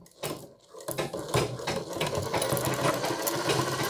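A sewing machine runs continuously as it stitches a half-collar choli-cut blouse, giving a close, dense, rapid mechanical whirr with no voices.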